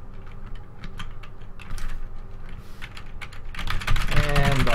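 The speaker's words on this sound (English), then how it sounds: "So you type out this big long line" Clattering, rapid keystrokes on a computer keyboard running on a Windows 7 machine, close and fairly loud. The taps come in quick irregular bursts over a low background hum, with a faint voice joining toward the end.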